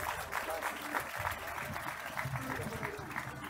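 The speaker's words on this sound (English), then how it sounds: "May we have a huge round of applause?" Dense, steady applause from a large audience at a university festival award ceremony, filling the whole span without a break.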